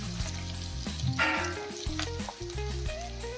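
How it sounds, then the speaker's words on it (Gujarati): Finely chopped garlic and onion sizzle in hot oil in a pan for Schezwan fried rice, with a steady close frying hiss, occasional stirring scrapes and a brief louder burst, under a tonal background. "તેલ આપણું ગરમ થઈ ગયું છે, હવે તેમાં ઝીણી કતરણ કરેલું લસણ અને ડુંગળી નાખી તેને"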